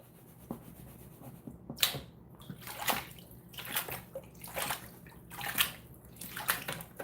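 Water sloshes and splashes in repeated bursts while gold is panned for a weekend cleanup, close by and fairly loud, with scraping and rubbing between strokes.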